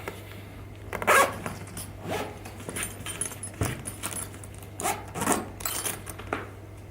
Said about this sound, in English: I can just zip it up